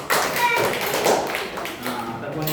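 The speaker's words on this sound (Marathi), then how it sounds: "टाळ्या सर्वांनी." Children clapping together in a first-grade classroom during a letter-word game, a steady burst of hand claps that runs throughout, with a teacher's voice speaking over it.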